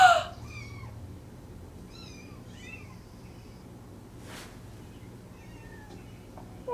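Several cats meowing in short, high, rising cries spread across a quiet room, with a brief noise burst midway and a louder sound at the start.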